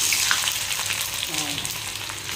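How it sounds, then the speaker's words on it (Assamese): Onions with chillies and garlic hit hot mustard oil in a kadai, giving a loud, continuous crackling sizzle up close with faint stirring, no voices. "চৰচৰাই গৈছে পিঁয়াজ"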